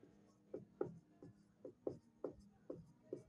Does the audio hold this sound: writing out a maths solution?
yes